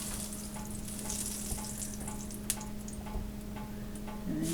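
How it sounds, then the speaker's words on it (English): Butter melting and sizzling on a griddle set to high heat for Reuben sandwiches, a soft continuous frying hiss with a few small ticks and pops, steady and fairly quiet, with a faint steady hum beneath. "I'm going to put the butter right on the griddle."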